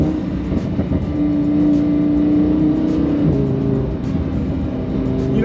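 A Lamborghini Huracan engine drones under steady revs while driving, holding a sustained tone and then stepping down in pitch around a gear change, with constant road and wind rush beneath.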